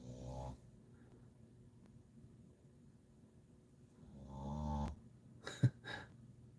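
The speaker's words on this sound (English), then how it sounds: "he's got a different snoring tone to Spike" A pet snores nearby, one long low wheezing breath at the start and another rising snore later, followed by a couple of short snorts, soft and alone in a quiet room.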